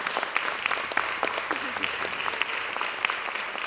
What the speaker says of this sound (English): give yourselves a round of applause for making it to this point right here